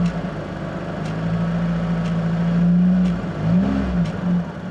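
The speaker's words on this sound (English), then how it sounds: "If I rev up, you'll hear a ticking noise." A Fiat Panda 4x4 engine idles and revs up and down, with faint regular ticks from the EVAP canister solenoid about once per second beneath the motor hum.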